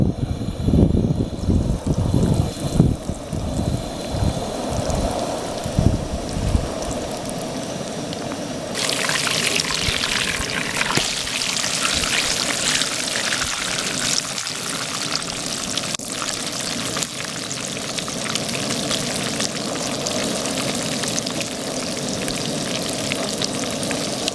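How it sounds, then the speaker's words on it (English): Pork tenderloin with seasoned breading frying in shimmering hot oil, Iowa style: a loud, steady crackling sizzle that jumps sharply in intensity partway through as the meat goes in, continuing densely with no talk. "which we're getting ready to fry up here in just a moment"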